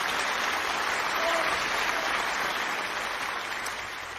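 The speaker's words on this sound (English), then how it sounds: "Give him a round of applause." Steady applause from a crowd, loud and sustained, fading slightly toward the end.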